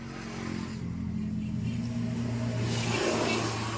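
The engine of a Euro Samurai 155 motorcycle with about 16,000 km on it idles with a steady low rumble, swelling slightly toward the end.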